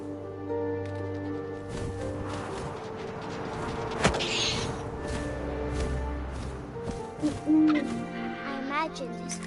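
An owl hoots in a video game over a layered ambient backdrop of wind, low drones and occasional creaks, with a sharp thump midway and quieter hooting calls toward the end.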